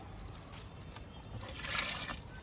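Liquid fertilizer trickles faintly onto the soil of a sapota plant in a home garden, a soft, continuous pour that swells briefly near the end.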